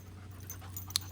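A dog pants steadily and softly at close range over a low constant hum, with a couple of brief sharp clicks near the end.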